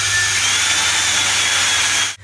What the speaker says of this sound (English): Cool, so drilled the holes.